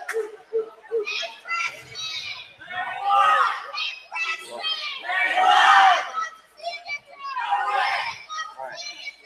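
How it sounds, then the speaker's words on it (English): A crowd at a school volleyball game cheers and shouts in bursts of mixed voices, many of them young, rising and falling in loud waves close by. "We have some cheering going on."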